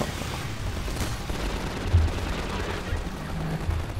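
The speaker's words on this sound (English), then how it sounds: "Who's shooting me?" Gunfire in the Half-Life 2 mod Riot Act, a dense, continuous stream of shots and battle noise with a louder burst midway, under a loud in-game combat mix.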